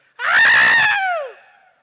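A voice imitates a child screaming during a spoken welcome address: one loud, drawn-out, strained shriek that holds steady, then bends downward and trails off, with no other sound around it.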